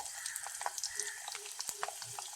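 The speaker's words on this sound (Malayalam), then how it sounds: "എണ്ണ ചൂടാകുമ്പോൾ അതിലേക്ക് നമുക്ക് വെളുത്തുള്ളി ഇട്ട് കൊടുക്കാം." Sliced garlic frying in hot coconut oil for a Kerala-style chicken curry, giving a quiet, steady sizzle with scattered crackles and pops close by, with no talk over it.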